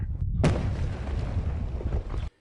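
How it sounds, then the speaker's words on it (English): Crews detonate explosives to clear a rock slide along Highway 78 near Ramona, a single sharp, loud blast followed by a rumbling roar of falling debris that cuts off abruptly after about two seconds. "Impressive work by crews blasting a rock slide along the 78 near Ramona."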